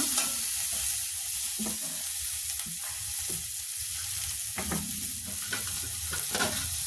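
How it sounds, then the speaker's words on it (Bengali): Turmeric and chili powder frying in a pan produce a hissing sizzle, punctuated by repeated scraping strokes of a spatula as the spices are stirred, close and moderately loud. "এই যে মশলা কষবো এবারে আমি।"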